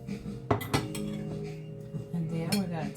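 A spoon tossing mango coleslaw in a bowl, giving a few light clinks and scrapes of utensil against the bowl over a steady background hum, with faint voices mixed in.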